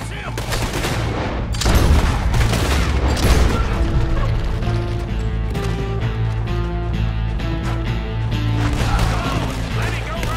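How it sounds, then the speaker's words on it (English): Rapid gunfire crackles through a Red Dead Redemption 2 shootout, dense overlapping shots and booms running steadily over a sustained game music bed, with shouting voices mixed in. "We're shooting our way out of here, boys!"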